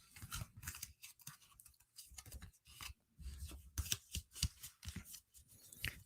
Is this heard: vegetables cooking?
no